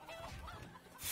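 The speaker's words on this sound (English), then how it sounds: "The chickens are beating him up." Chickens clucking in the Minecraft Story Mode video game, a brief burst of close, agitated poultry sounds with a rising noisy rush at the end.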